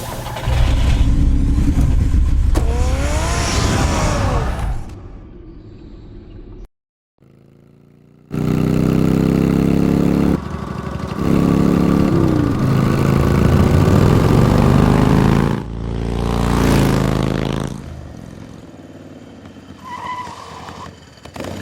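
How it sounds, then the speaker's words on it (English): A car in Batman: The Telltale Series starts and drives off: loud engine revs rising in pitch, a brief drop to near silence, then sustained roaring acceleration with shifting pitch and a tire-like squeal near the end. "Get the car ready, Alfred."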